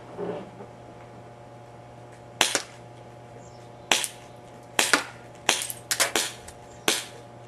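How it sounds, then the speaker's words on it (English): Ruger P345 pistol fired at targets about 20 feet away, sharp close gunshots in an uneven series of about seven cracks, some in quick succession, with a low steady hum beneath and no talk. "We just had 3 shots there"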